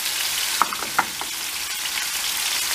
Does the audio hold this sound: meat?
yes